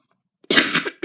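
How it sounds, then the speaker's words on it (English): A single sharp, close cough bursts out after a moment of silence, with a rough throaty tail and a small second burst at the end. "Sorry about that cough."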